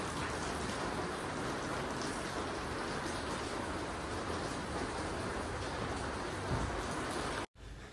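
Heavy monsoon rain in Pune falls in a continuous, loud, broadband roar, with a brief cut near the end before the downpour resumes.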